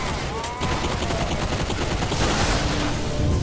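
Rapid gunfire from Bulletstorm VR, a first-person shooter, comes as a dense, loud, continuous burst of shots and blasts running the whole way with no pauses.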